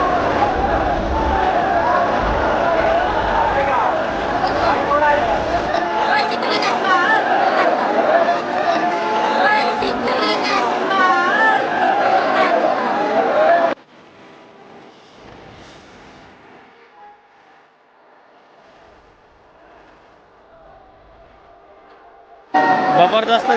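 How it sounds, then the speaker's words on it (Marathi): A dense, loud crowd at a busy Navratri temple gathering, a continuous hubbub of many overlapping voices that drops suddenly to a quieter, sparser murmur before the full din returns at the end. "गर्दी आहे"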